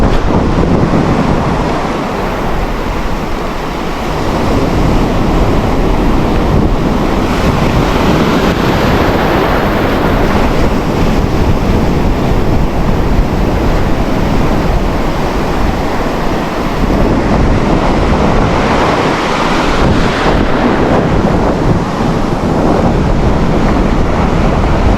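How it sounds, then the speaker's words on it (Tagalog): Large ocean waves surge steadily against a shore where someone is fishing for trevally, a loud continuous roar of surf mixed with wind buffeting the microphone for the whole stretch. "Lalaki kasi ng alon."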